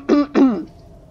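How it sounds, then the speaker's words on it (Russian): Two quick throat-clearing coughs from a man, one right after the other, close and fairly loud, followed by quiet. "Аж кашель пробило"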